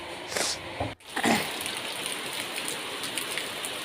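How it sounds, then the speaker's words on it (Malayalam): Steady heavy evening rain pours down in a dense, constant hiss, with a brief dip and a couple of louder splashes near the start. "അത് നല്ല മഴയാണ്"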